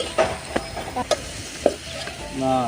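Chicken liver frying in a pan at an outdoor New Year's Eve cookout, stirred with scattered scrapes and clicks over a low sizzle, close and moderately loud.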